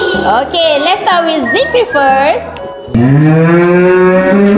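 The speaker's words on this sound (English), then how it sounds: "Cow." During a classroom guess-the-sound game, a recorded cow lets out one long, loud, low moo right after a teacher's spoken introduction, and the moo holds steady to the end.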